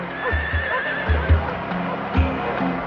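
Pack horses on an Australian outback expedition whinny and neigh over a soft clip-clop of hooves, with several loud, close calls rising above a steady low rumble of movement.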